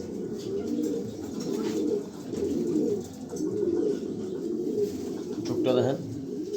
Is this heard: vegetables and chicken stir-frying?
no